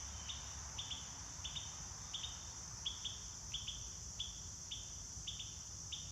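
Short chirping calls repeat every half second or so over a steady high insect drone, quiet and outdoors with no voices.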